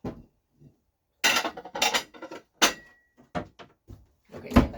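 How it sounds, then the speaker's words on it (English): Dishes being put away in a kitchen, a series of loud clattering clanks and thunks of plates and cutlery, spaced bursts at close range with no talk. "I can put dishes away, though that'll probably be really loud and obnoxious"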